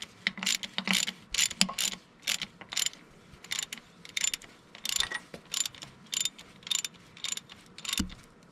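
A ratchet snugs up bolts on a BMW K100 motorcycle being reassembled, giving quick bursts of crisp clicking strokes in a steady back-and-forth rhythm, close and moderately loud with short pauses between.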